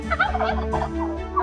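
A turkey gobbles in a short, rapid burst of warbling calls, close and clear over a light musical backdrop.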